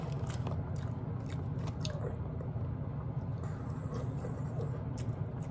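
Close, wet biting and chewing of spicy BBQ ribs, soft squishy mouth sounds repeating over a steady background hum.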